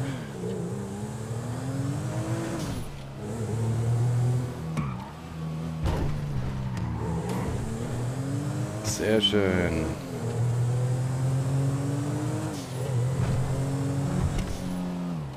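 Audi Quattro driven in GTA 5, its engine droning steadily with rising and falling revs through the whole stretch while someone talks over it.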